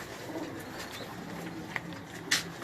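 A golden pigeon from a Karachi loft coos softly, with a few faint low calls followed by a sharper, brighter call near the end against quiet outdoor background.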